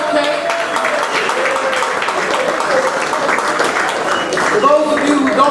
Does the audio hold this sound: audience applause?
yes